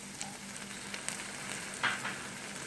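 Chopped tomatoes going into a pan of softened frying onions for achari karela, giving a steady, close hiss of sizzling oil with a few small crackles and pops.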